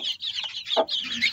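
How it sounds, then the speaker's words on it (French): A Ketawa hen clucking near her ten chicks in a farmyard coop, with soft clucks and high chick peeps close by in a short burst. "ici, on a la poule Ketawa avec elle a eu 10 poussins"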